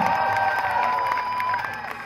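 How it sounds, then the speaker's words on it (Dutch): Crowd at a Highland games cheering and applauding a new record throw, a steady mix of claps and shouts with a bright whistle-like tone running through, continuous and fairly loud. "Applaus voor Bert."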